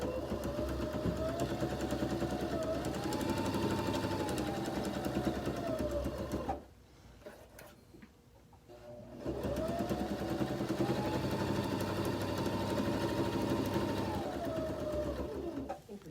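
A sewing machine runs steadily while stitching fabric for a tortilla warmer, with a short back stitch at the start; a continuous near motor hum pauses briefly for about two seconds midway, then resumes at the same steady pace.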